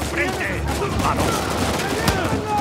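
Game gunfire from Uncharted 4, a dense fusillade of shots running throughout at steady loudness, mixed with game sound effects and a voice talking over it.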